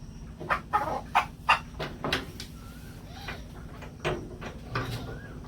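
Hens and chickens at feeding time in a village yard, with a run of sharp knocks and clucks early on, then sparser soft calls over a low steady background.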